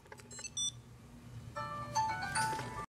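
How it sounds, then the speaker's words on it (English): Small electronic beeping melody from the piezo speaker of a Tile Sport Bluetooth tracker, a few short high chirps followed by a longer rising jingle of tones, close and moderately loud. "this is the piezo speakers. This is what makes the loud, the beeping sounds"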